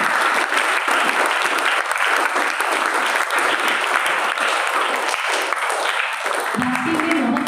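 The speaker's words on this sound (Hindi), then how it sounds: "तो बच्चों के लिए जोरदार तालियां" Sustained applause from a crowd for children at a Hindi Day event, steady and enthusiastic, with a voice briefly starting near the end.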